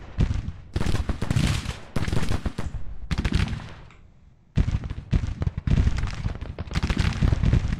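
Cannon and rifle fire in the Civil War strategy game Grand Tactician: repeated loud volleys and booms in rapid bursts, separated by a brief quiet gap, with a spoken voice heard between them.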